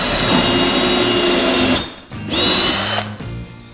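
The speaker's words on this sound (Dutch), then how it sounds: "Dan mag je op het lijntje maar een gaatje boren." A power drill whirs loudly and steadily, stops briefly, then runs again in a second burst before winding down; close and continuous.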